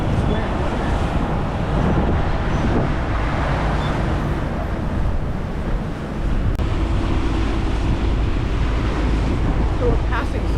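Strong wind buffets a boat on a river passage from Chicago to Joliet, a steady loud roar with water wash throughout and no clear break.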